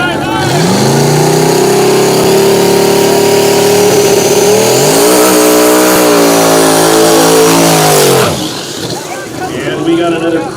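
A Nissan 240SX drag car with a 5.3 LS V8 racing at a dragstrip, its loud engine rising in pitch through gear changes before fading, with a commentator talking over it.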